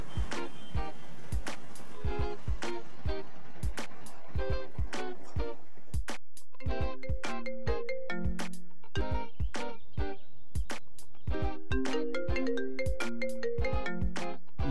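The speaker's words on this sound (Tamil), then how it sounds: "ஃபோன் அடிச்சுட்டே இருக்கடா." A mobile phone ringtone rings loudly and continuously, first as sharp percussive plucks in a steady rhythm, then joined by a bright repeating melody, with no talk over it.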